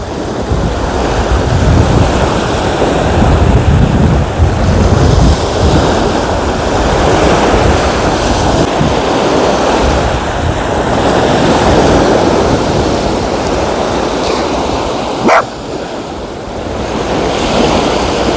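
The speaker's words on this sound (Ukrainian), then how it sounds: "В місті нема вітру, а тут є." Wind buffets the microphone on a cold Odesa seashore as waves wash in continuously, a loud broadband rush that swells and eases, with one brief thin sound near the end.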